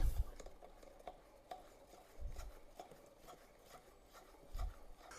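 Buttermilk, eggs and oil get stirred together by hand in a bowl for plum cake batter, giving quiet, close scraping and rubbing strokes with a few soft knocks against the bowl, and no talk over it.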